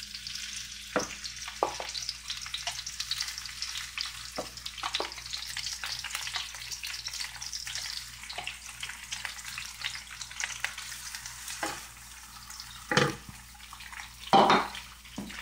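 Shrimp frying one by one in hot oil in a very hot pan, a steady soft sizzle with occasional louder crackles and pops, with no talking.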